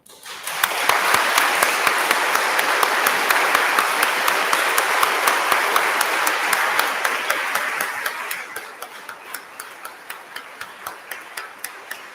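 A congregation at a parish installation ceremony in Sumvitg bursts into dense applause that holds for several seconds, then thins to a few scattered claps.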